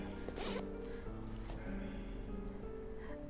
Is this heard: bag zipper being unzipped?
yes